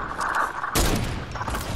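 Gunfire in the video game Fortnite comes as a short burst of sharp crackling shots, a brief pause, then a heavier blast and more shots, fairly loud in the game mix.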